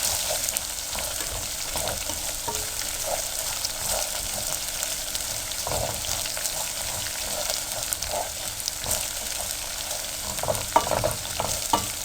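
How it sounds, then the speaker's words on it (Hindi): Garlic frying in a pan for a curry, a steady close sizzle broken by repeated scraping and clinking as a spoon keeps stirring, alone with no voices. "इसको बादामी यानी गोल्डन सुनहरी कलर होने तक फ्राई करना होगा।"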